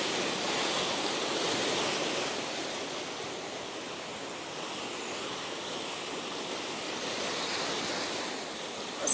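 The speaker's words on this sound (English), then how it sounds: "So much quiet waters, pretty noisy waters." Powerful rushing water and surf roar steadily and loudly as a broad, continuous wash of noise with no voices.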